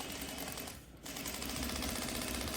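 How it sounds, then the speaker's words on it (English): A sewing machine runs stitching corset cording on a short stitch length, a fast rattling buzz that pauses briefly in the middle for a back stitch and then resumes, close and steady. "I am back stitching at start and stop because this is going to get handled a lot throughout the cording process"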